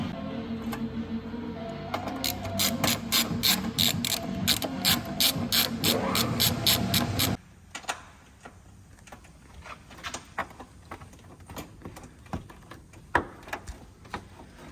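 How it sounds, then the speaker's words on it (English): A ratchet bolting a snorkel onto a Nissan Y62 Patrol, giving rapid, close, evenly spaced clicking bursts over a background hum, then sparser, slower clicks with quieter pauses between them. "And then we can start bolting the snorkel in."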